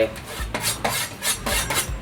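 A knife cuts through a roughly 600-gram piece of raw pork neck on a cutting board while the meat is prepped for a Thai grilled-pork marinade. Steady rasping strokes repeat about every half second, close and fairly loud, with no talking.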